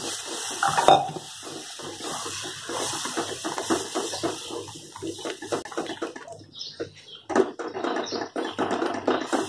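Water splashes into a patwadi dough mixture in a pan in uneven bursts, with gurgling and stirring clatter in between.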